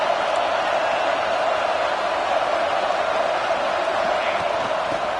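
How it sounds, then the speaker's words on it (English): Football stadium crowd at a Texas A&M versus LSU game, a steady loud roar of many voices cheering without letup, distant and dense. "Listen to the crowd energy here in the early going."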